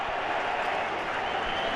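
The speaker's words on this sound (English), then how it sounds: "even just a throw down there in the corner is enough to bring the crowd to life" Stadium crowd at the Argentina vs Brazil Copa America final in 2021 roars steadily around a throw-in near the corner, a dense, continuous wash of cheering with no break.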